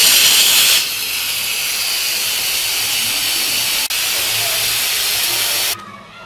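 A pressure cooker cooking beans releases steam in a loud, steady hiss that continues unbroken for several seconds before cutting off abruptly.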